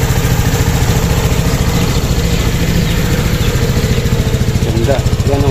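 A Griffin 180i motorcycle engine idles steadily with a loud, close, even low-pitched putter after an oil change with Delo Gold Ultra diesel engine oil, running unchanged throughout.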